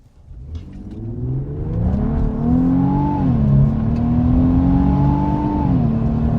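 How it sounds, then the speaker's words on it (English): Car engine pulls hard through a sport-mode acceleration run, its rising whine and rumble climbing steadily with gear shifts, loud and close from inside the cabin for several seconds. "So I'm going to go through this acceleration run in sport mode in supreme comfort"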